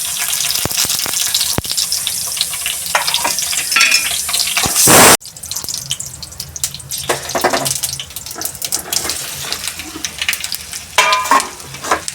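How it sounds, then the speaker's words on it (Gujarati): Mustard seeds, whole red chili and green chili sizzle and crackle in hot oil, with sharp spattering pops and a loud burst of hissing partway through, continuing unevenly afterward. "હવે આપણો વઘાર થઈ ગયો છે"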